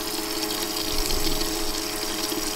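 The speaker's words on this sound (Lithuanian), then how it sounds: "kai įdėjom galingesnę vandens pompą, tai jeigu matysis, dabar srovės galingumas." A strong water jet from a newly fitted, more powerful water pump in a garage gushes in a steady, loud, continuous rush with a faint low rumble underneath.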